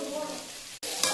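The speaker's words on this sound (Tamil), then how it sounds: "சும்மா லேசாக கலரி விட்ட போதும், ஏன்னா பன்னீர் உடஞ்சிடும்." Fried paneer and masala being stirred in a pan, a soft close sizzle with scraping strokes, broken by a brief pause before the frying noise resumes.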